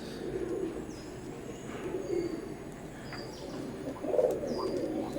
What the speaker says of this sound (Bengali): ওমানি একটা নর ডাকতেছে, এইটা একটা ওমান ব্লাড লাইনের নর।